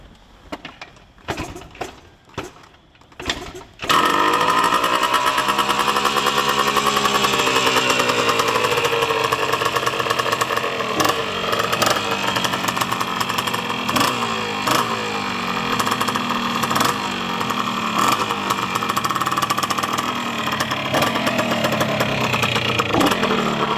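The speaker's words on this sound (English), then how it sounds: "Confirmed cold start." A 1977 Yamaha IT175 motorcycle engine fires up from a cold start after a few sharp kicks and sputters, then settles into a loud, steady, rattly idle close to the microphone.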